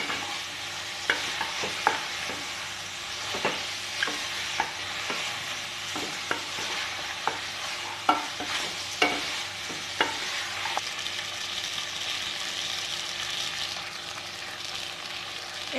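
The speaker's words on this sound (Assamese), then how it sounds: "মই এতিয়া মিক্সিত পিছা মছলাখিনি দি দিছোঁ দি পেলাই অকণমান লৰাই দিম" Chicken with ground masala from the mixer is stirred in a frying pan, giving a steady sizzle with irregular scraping clicks of the spoon against the pan, close and alone.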